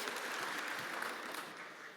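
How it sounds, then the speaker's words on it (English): An audience at a start-up pitch session applauds in a dense, even patter of many hands that fades slightly toward the end, with no voices over it. "Let's make a round of applause for our jury members and for Gytis."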